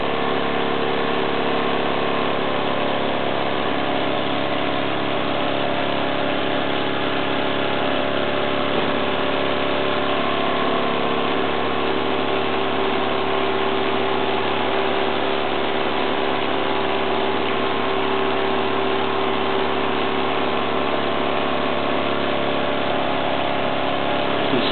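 A small Wilesco D455 model steam engine runs, not yet up to speed: a continuous, even mechanical hum and whir, close and steady throughout, with no talking.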